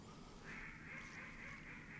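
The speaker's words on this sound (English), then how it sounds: "And there's a lot of ducks." Ducks quacking in a mix of calls, fairly faint and steady, heard from a kayak during a public-land duck hunt on open water with ice holes.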